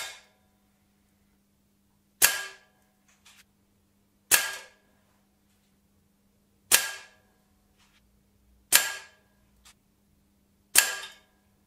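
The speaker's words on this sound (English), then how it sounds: "The target shooting you've just seen was shot out at 10 metres" An Artemis CR600W air rifle fires at targets 10 metres away, five sharp, close cracks spaced about two seconds apart in otherwise quiet surroundings.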